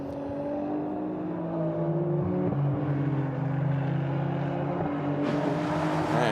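Ferrari Challenge race cars in a Copa Shell-Am race at the Brno circuit, engines droning steadily with shifting pitch and a sharp rise near the end, loud and continuous with no talk.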